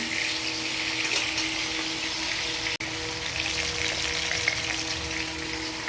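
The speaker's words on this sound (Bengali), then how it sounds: "এই যে মাছের মাথাগুলো এখন বেশ করে ভাজা হচ্ছে" Hilsa fish heads fry in hot oil with a loud, steady sizzle and crackle, up close, broken by one brief dropout midway.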